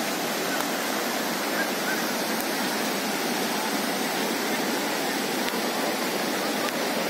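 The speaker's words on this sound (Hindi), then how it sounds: "पुल के ऊपर बहता हुआ पानी" Heavy floodwater pours over the Jiradara bridge near Dungras after a night of torrential rain, a loud, steady broadband rush of roaring water that holds constant without pause.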